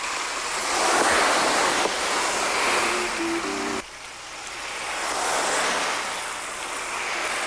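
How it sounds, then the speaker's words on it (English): Surf from a wave machine sound effect built as a look-alike cousin to a rain-making device: a continuous rushing wash that swells and recedes, loud and alone, with a brief faint tone in the middle. "MacDonald's wave machine was a look-alike cousin to the Rainmaker."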